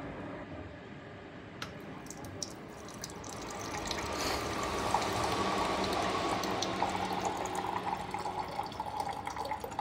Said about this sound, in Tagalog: So first, lagyan muna natin ng hot water.